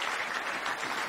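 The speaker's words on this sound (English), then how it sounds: "Give a hand clap to Jesus." A church congregation at a Bible study claps together in a dense, continuous patter of applause, moderately distant and without talk.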